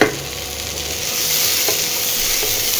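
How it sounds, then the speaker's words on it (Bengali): Vegetables for chow mein fry uncovered in a pan, giving a loud, continuous hiss and sizzle that swells slightly midway, with a couple of faint stirring clinks and no voices. "এবার আর ঢাকবো না, না ঢেকে একটু ফ্রাই করে নেব"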